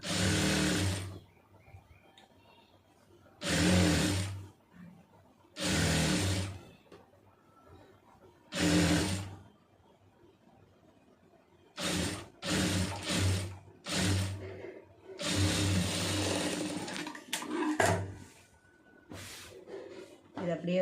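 A sewing machine stitches around a garment lining in several loud, whirring bursts separated by pauses, with a voice talking quietly between the runs.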